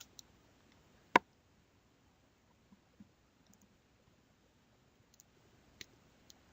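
A computer mouse clicks once, crisp and close, on a crop check mark in image-editing software, followed by a few faint scattered ticks in an otherwise quiet room.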